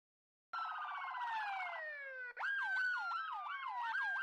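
Loud ambulance siren, first a steady two-tone wail with warbling layers, then after a brief dip a rapid repeating yelp cycling several times per second, close and continuous with no voices.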